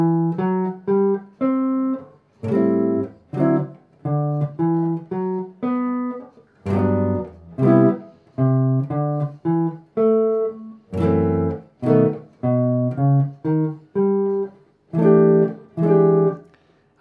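The A section of a song played as a chord melody on guitar: plucked chords and single melody notes ringing out clearly in a slow, even phrase, solo instrument with no talking.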